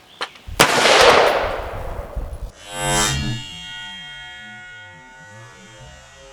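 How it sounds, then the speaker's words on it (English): A rifle firing M855 rounds at Level 3+ armor plates 15 yards away on an outdoor range, one loud sharp blast with a second impact crack and a long ringing echo fading out. "We're just shooting 15 yards to kind of get an idea of effect on these"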